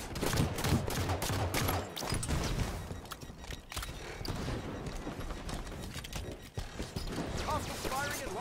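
Gunfire and combat noise in the video game Halo 5 Guardians, dense bursts of shots and clattering mechanisms mixed with voices calling out over the action.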